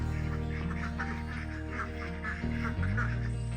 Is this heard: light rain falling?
no